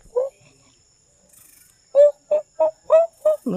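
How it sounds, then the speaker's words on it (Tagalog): Birds calling outdoors: one short chirp, a pause, then a rapid run of six bright, loud calls close by against a quiet background. "Oh, mga ibon yan eh."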